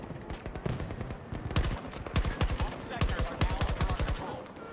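Rapid gunfire from Battlefield 2042 rattles out in dense bursts of sharp cracks, sparse at first, then tight rhythmic volleys in the second half, with no voices over it.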